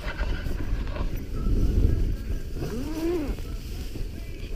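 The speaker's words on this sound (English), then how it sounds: "Still pretty windy." Gusty wind at a wild camp at Black Sail Pass in the Lake District buffets the microphone in low rumbling bursts, with a brief voice-like sweep rising and falling midway.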